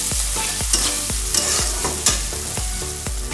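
Spices and turmeric frying in a pan, a steady oily sizzle broken by regular scraping strokes of a spatula stirring the mixture, close and clear with no talking.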